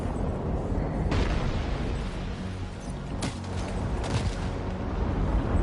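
A grenade pistol fires and its rounds burst in a video game battle, a few heavy booms and thuds landing over a constant rumbling backdrop, loud and close.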